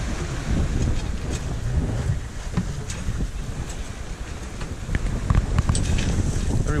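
Steady wind rushes past a sailboat at sea, a continuous broadband roar with gusts that swell and ease, mixed with faint water and hull noise.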